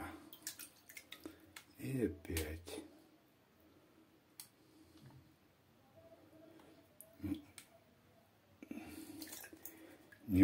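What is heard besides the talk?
water sloshing while washing clay to look for gold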